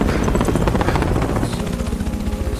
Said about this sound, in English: A helicopter arrives to extract him.